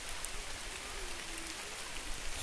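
Rain falls steadily at an outdoor picnic spot near the Bhutan border, a continuous even hiss with scattered drip ticks and no voices.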